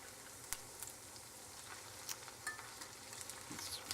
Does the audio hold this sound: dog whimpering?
no